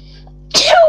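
A single sharp human sneeze bursts out loud and close after a near-silent lead-in, ringing briefly before trailing off, heard during a Minecraft Five Nights at Freddy's-style game session.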